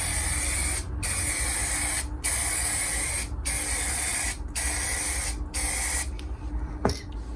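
Aerosol spray can misting tint onto Toyota Celica rear tail lights, five steady hissing bursts of about a second each separated by short pauses, close and loud, ending with a faint click.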